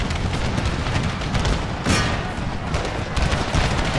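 Union infantry units firing musket volleys in the Empire Total War American Civil War mod, a steady rattling crackle of shots with a sharper burst in the middle and more near the end.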